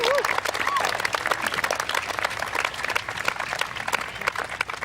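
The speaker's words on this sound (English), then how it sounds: "Let's give all the students a big round of applause." A graduation ceremony audience breaks into sustained applause for honors students, dense clapping from a large crowd filling the room with a few whoops at the start.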